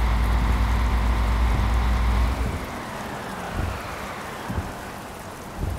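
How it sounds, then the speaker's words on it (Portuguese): Heavy rain drums steadily on a bus driving along a road, a loud continuous wash with a deep engine rumble that drops away after a couple of seconds, then a few soft thumps over the rain. "Chuva que tá brava"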